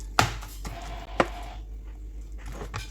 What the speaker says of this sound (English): I just hate cutting onions.